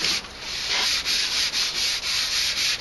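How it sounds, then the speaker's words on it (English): Fine 400-grit sandpaper rubs lightly over a computer case in even, repeated strokes, close and steady, a dry hiss pulsing roughly twice a second with no voices. "I'm just gonna do a little light sanding"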